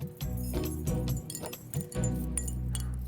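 A bunch of keys jangles and clinks in several bursts over a low steady hum, metallic rattles coming close and fairly loud.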